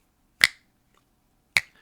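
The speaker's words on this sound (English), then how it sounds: "then snap my fingers" Two crisp finger snaps, close and clear, about a second apart, each a sharp dry click in an otherwise silent room.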